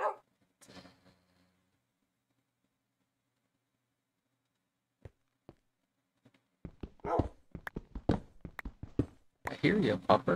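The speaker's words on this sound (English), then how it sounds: "Barking so much." Dog barking near a player building in a Minecraft world: a few sharp single barks come after a quiet stretch, then someone talks over them, with a louder cluster of barks at the end.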